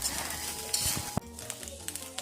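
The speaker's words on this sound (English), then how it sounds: "Keep stir frying until your onions and your tomatoes and other veggies have softened up" Onions, tomatoes and other vegetables sizzle in a hot pan for ham fried rice while a utensil scrapes and clacks against it in several stirring strokes, with no talking.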